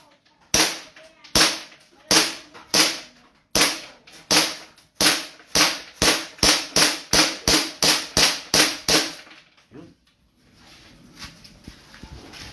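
A string of 2011 Godfather firecrackers goes off outdoors in a rapid run of about twenty loud, sharp bangs with short even gaps, then falls silent. A few voices and faint background noise come after.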